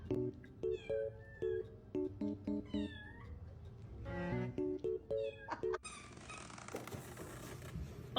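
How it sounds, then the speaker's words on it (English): A Siamese cat meowing repeatedly in short tonal calls, several distinct meows in quick succession with some longer wavering cries, clear and close, followed by a burst of other noise near the end. "Oh, it's a Siamese cat!"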